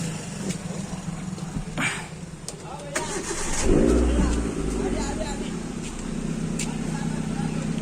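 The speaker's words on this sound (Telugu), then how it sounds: "ఒకసారి మనం బండి స్టార్ట్ చేసి కూడా చూద్దాం" A 2005 Hyundai Santro car cranks and its engine catches midway, then idles with a steady low rumble close by, with voices in the background.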